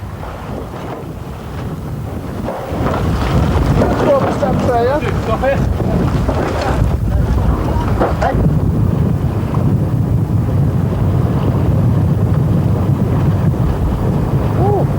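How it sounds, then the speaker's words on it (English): A racing yacht sails through wind and spray on the approach to Fort William while crew haul in a wet spinnaker; steady wind buffeting and water rush fill the scene, with faint voices beneath. "Hauling in yards of wet spinnaker cloth on the approach to Fort William is just one of the many challenges"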